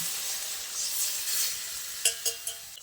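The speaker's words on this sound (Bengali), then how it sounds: "তারপর এর মধ্যে ওই সবজি সেদ্ধ জলটাকে দিয়ে দিচ্ছি।" Boiled vegetable water poured into shukto simmering in a pan, sizzling steadily with a few short sharp splashes and stirring knocks toward the end, close and moderately loud, no talk.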